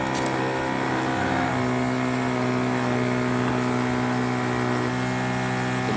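Small engine of a fertilizer and chili sprayer machine runs steadily, a loud, close droning hum with a constant pitch and no talk throughout.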